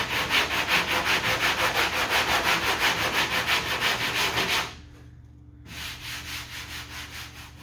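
Sanding a car body dent by hand, a rapid rhythmic back-and-forth rasping close up, stopping for a pause and then returning softer and slower.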